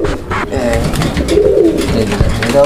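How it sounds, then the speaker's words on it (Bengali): Giribaj pigeons cooing close by, with repeated low, throaty coos rolling over one another amid rustling and faint background noise. "এটাও গিরিবাজ কবুতর"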